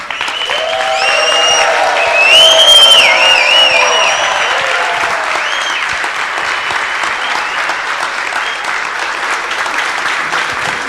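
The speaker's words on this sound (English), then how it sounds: "please let's stand up and give him a standing ovation" Sustained, loud applause from a large standing audience at a general assembly, dense clapping that swells in the first few seconds and then holds steady, with a few faint cheers and whistles early on.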